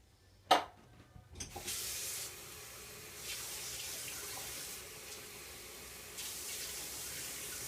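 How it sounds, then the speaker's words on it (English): Potatoes being drained and rinsed under running kitchen tap water, with a sharp clatter at the start and then a steady hiss of water into a sink that rises and falls slightly in force. "Alright, so I'm draining and rinsing these potatoes."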